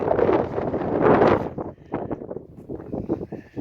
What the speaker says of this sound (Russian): Такой ветер нас может снести с этой макушки.